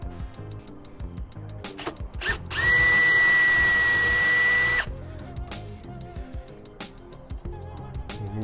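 A power drill bores a guide hole into wood for cabinet screws inside a 1971 VW Bus, one steady high whine lasting about two seconds, close and loud, framed by quieter handling knocks before and after.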